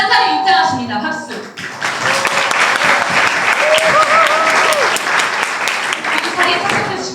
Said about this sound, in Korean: 판사님 입장하십니다. 박수.